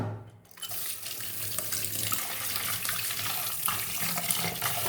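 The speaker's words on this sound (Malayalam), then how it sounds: "ഇത് കഴുകിയെടുത്താലോ, അപ്പോൾ ഇതിൻ്റെ കറ അങ്ങ് പോയാൽ." Tap water runs strongly into a sink, rinsing rubber-like sap from a container, a loud continuous gush that starts after a brief quiet moment and carries on with splashy variation.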